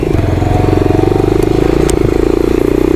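A Lifan KP Mini motorcycle engine running steadily after a test start, a close, continuous low putting idle with a fast even pulse and light mechanical clatter throughout.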